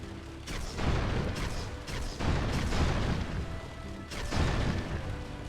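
Explosions go off in the Sly Cooper: Thieves in Time video game as several heavy booming crashes, separated by brief lulls, over a continuous busy background.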